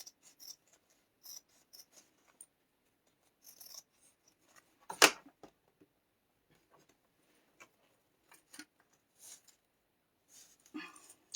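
Scissors trim the edges of a fabric sewing panel in a series of soft, close snips, with one louder, crisp cut near the middle and otherwise quiet surroundings.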